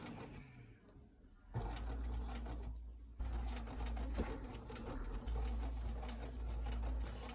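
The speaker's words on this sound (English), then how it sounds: "we're going to sew the front to the back" A sewing machine stitches the front of a fabric remote control holder to the back. The motor runs loud and steady in long stretches with short pauses between them.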